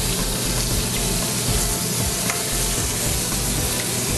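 Scallops sizzle loudly in a hot frying pan as they are turned, with dense continuous crackle and faint clinks of stirring throughout, no talking.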